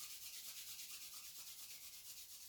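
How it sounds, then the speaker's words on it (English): Palms rubbing together in a steady back-and-forth during a yoga session, a soft, continuous brushing swish that is close and quiet, with no talking. "Rub the hands together."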